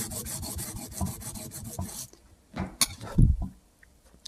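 Hand strokes ease the sharp edges of a sushi knife already sanded to 1200 grit, a quick series of rhythmic rasping rubs up close, then a pause and a few separate scrapes and a soft knock.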